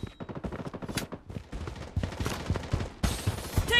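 Rapid gunfire rattles through a Project Bloodstrike mobile shooter match in quick, loud, closely spaced shots, with an even denser burst near the end.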